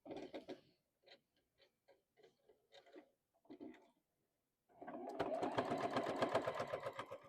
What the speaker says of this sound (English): And then sew this piece on here like this.